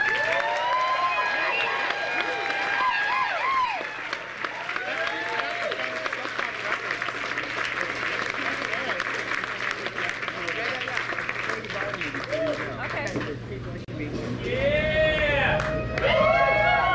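An audience applauds to welcome Terence McKenna at a lecture evening, steady loud clapping with some cheering that swells again near the end.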